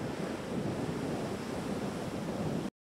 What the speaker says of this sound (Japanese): 時折風が吹いていて、海を見ますと濁っていて白波も立っています